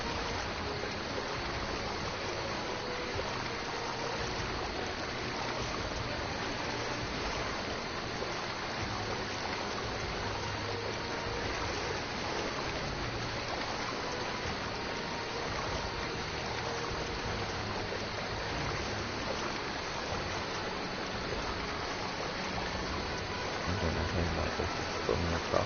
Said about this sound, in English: So I have to just literally cross the water.